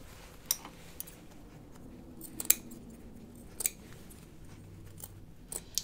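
Scissors trim the fabric corner of a sewn dopp kit with a few sharp, separate snips spaced unevenly over a quiet room background; no talking.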